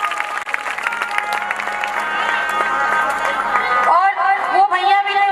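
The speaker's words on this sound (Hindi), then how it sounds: "इनके लिए मीठी मीठी तालियां बजा दीजिए।" Applause and crowd noise at a Shrimad Bhagavat Katha religious gathering fill the first few seconds, then fade into voices speaking and singing.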